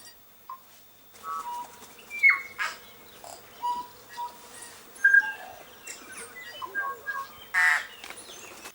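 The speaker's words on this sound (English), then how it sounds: "I'm not sure if you can hear our beautiful native New Zealand tui singing in the background" A native New Zealand tui sings in the background outdoors, with scattered clicks, whistles and chiming notes over several seconds, faint and fairly distant, no voices.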